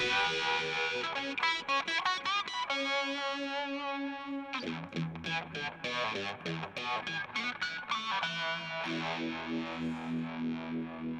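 Distorted electric guitar played through a Micro-Vibe effect pedal, rapid picked notes and sustained chords swirling with a pulsing, chorus-like warble, loud and close with no talking.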